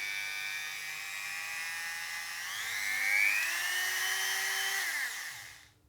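A Ryobi rotary tool of the Dremel type running steadily with a high, thin motor whine that rises in pitch partway through, then spins down and stops, close up with no talking.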